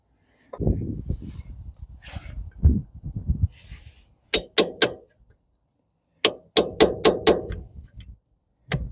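Sharp metallic strikes ring out as a hammer works on a seized spring washer on a T100M crawler tractor, a pair then a quick run of four or five blows, close by, following clattering and rustling.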